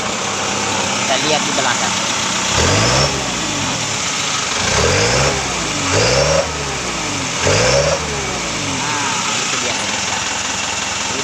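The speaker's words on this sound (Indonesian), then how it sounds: "Kita tekan gas." A fuel-injected engine revs as the throttle is pressed, rising in several swelling bursts from a steady idle, loud and close, while someone talks over it.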